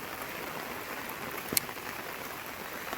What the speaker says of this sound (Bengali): বর্ষার দিনে একটা ঝমঝমিয়ে বৃষ্টি সকাল থেকে হয়ে যাচ্ছে